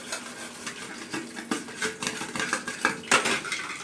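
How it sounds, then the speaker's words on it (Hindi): Dishes being washed in a home kitchen, with steady clinking and clattering of cutlery and utensils against plates and pans, close and busy with brief louder clanks. "उनको वॉश कर देती हैं, और बर्तन वॉश करने के बाद फिर खाएंगे खाना"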